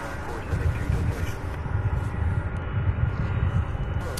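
A Boeing 747 jet departs Louisville International Airport as a steady, fairly distant low engine rumble that holds throughout, with no voices over it.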